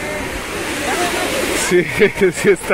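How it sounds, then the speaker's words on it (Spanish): Strong ocean surf from a possible deep-sea swell rolls in at Caleta beach, Acapulco, as a steady broadband roar that gives way to people talking close by. "para que vean cómo se escucha ahorita el oleaje"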